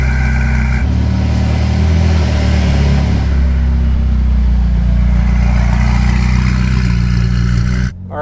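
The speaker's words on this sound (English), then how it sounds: "Especially the turbo spinning down." Modified Ferrari 458 turbo spinning down after a pull, a loud, steady low engine roar with a whooshing whine that sustains throughout and then cuts off abruptly at the end, with no talking.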